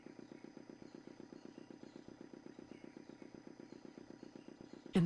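A small engine runs at a steady, even idle with a regular pulsing rhythm, close and moderately loud, then cuts off abruptly at the very end.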